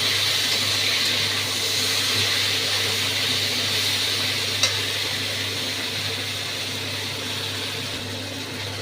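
Drumsticks and potato sauté in a pan for a Bengali fish curry, giving a steady, close sizzle with soft stirring that continues evenly throughout and carries no talking.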